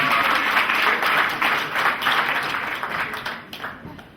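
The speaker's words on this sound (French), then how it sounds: "Applaudissez pour elle" Wedding guests applaud at a civil marriage ceremony in France, a full burst of clapping that gradually thins and fades toward the end.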